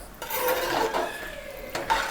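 A spoon stirring egg kulambu curry in a pot, a short scraping and swishing against the metal, close and moderately loud, with no talking.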